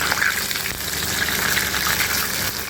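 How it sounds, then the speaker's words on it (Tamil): Oil bubbles and sizzles vigorously in a continuous, dense crackle as pieces of country chicken deep-fry, loud and close without pause. "பொரிக்கும்போது நம்ம நல்லா சிம்மில் வச்சு பொரிச்சு எடுக்கணும்."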